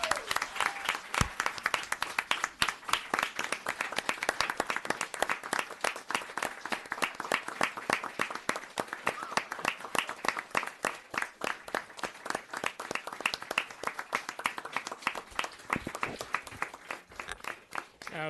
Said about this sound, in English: So let's have a really big round of applause.